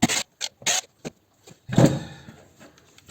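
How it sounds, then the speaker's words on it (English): Screws are undone on a Cisco NAS drive being scrapped, producing short bursts of squeaky metallic scraping and grinding, near and uneven, separated by brief silences. "Let's undo some more screws."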